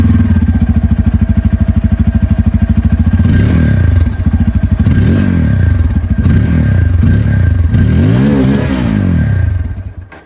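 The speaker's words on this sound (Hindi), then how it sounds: "तो ये दोस्तों आप लोगों ने यहाँ पर डुअल बैरल एग्जॉस्ट N250 की जो आवाज़ है वो आप लोगों ने यहाँ पर सुन ली है।" A Bajaj Pulsar N250 motorcycle with a dual barrel exhaust idles with a loud, even throbbing pulse close by, then is revved in several rising and falling bursts before cutting off.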